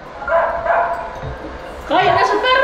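A dog barks in two quick yips near the start, then a voice speaks, followed by another bark burst toward the end, with play of the Super Mario Bros secret world level Senda Superestrella 2 running in the background.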